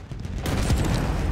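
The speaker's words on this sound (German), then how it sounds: "Wird immer noch geschossen." Battlefield 1 gunfire in a forest battle, a dense burst of shots that swells into sustained loud crackling after a brief quieter start.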